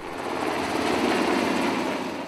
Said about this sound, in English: loaded onto choppers, and flew to Selby Cactive